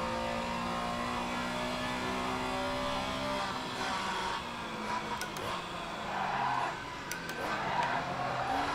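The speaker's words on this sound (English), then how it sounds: "So easy to lock up this car." In a racing video game at Imola, a race car's engine drones and revs steadily while the tyres lock and squeal under braking, loud and continuous throughout with no voices.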